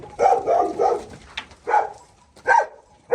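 A dog barks loudly and close by at a farm with sheep and goats, giving five or six sharp barks in uneven bursts with short pauses between them.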